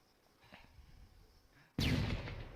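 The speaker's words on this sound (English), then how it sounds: "Throw the flashbang behind him." A flashbang grenade detonates in a video game: a sudden loud burst after a quiet stretch, followed by a sustained bright ringing hiss that slowly fades.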